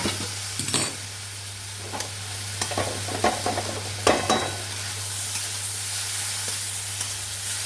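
Tomatoes sizzle in a frying pan as they are stirred, with a constant frying hiss broken by several sharp scrapes and clacks of a spatula against the pan.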